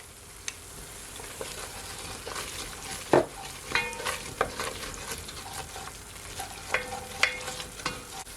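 Chopped onion goes into a pot of flour and fat on low heat, sizzling softly while a utensil scrapes and stirs in irregular, close clinks and taps.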